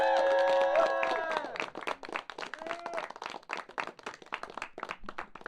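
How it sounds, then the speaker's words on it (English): An audience at a student TV live show bursts into clapping and cheering after a voice trails off, the applause thinning into scattered claps toward the end. "Round of applause, everyone."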